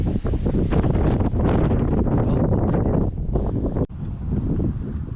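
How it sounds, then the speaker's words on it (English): Strong outdoor wind buffets the microphone in loud, continuous roaring gusts with a brief dip near the end, no voices, trees nearby rippling in the wind. "You can see how windy it is."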